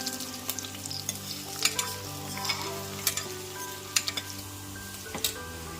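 Green chillies and onion frying in hot oil in a cooker, a steady sizzle with sharp scraping stirs at irregular intervals, close and fairly loud, no voices.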